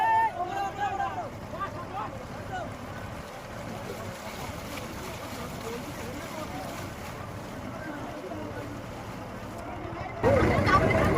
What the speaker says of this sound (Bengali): আজকেরও নৌকা চড়ছি নৌকা চড়াতে আলাদা একটা রোমাঞ্চ রয়েছে